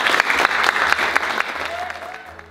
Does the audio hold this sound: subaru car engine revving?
no